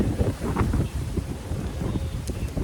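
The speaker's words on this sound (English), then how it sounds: "So it's getting windy." Wind blows outdoors in rainy weather at Give Kids The World Village, buffeting the microphone with loud, uneven gusty rumbles throughout.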